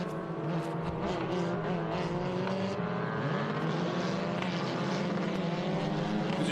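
Race cars of the F4 U.S. and FR Americas field rolling around VIR on a formation lap behind a leader, a steady layered engine drone with wavering harmonics, continuous and moderately distant, no voices.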